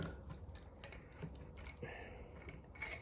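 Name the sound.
removing Howa 308 barrel action from rifle stock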